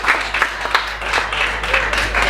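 Wedding guests applaud at a farm venue, a steady patter of many hands clapping at close range with no gaps, lasting a couple of seconds.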